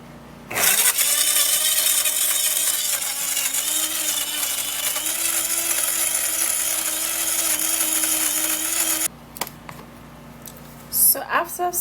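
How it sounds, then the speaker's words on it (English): A kitchen blender purees banana, running loud and steady for about eight seconds before stopping, followed by brief clattering handling sounds. "So after successfully blending the banana, we're going to transfer into a bowl."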